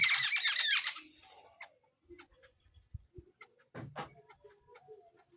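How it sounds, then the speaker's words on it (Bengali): Jungle babblers bathing in a water basin let out a loud burst of harsh, squawking chirps at the start, then go quiet apart from faint scattered splashes and small sounds. "ছাতার পাখিগুলো কেমন এসে কিচিরমিচির করে ডাকছে।"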